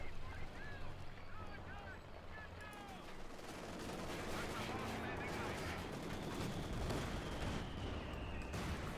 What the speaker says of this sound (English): The Allies are focusing now suddenly more and more on artillery. M7B1 Priest.